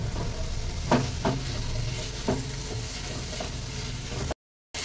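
Rohu fish frying in hot oil in a pan, a steady crackling sizzle throughout with a few sharp spatters and scraping stirs, close and continuous until it cuts off near the end.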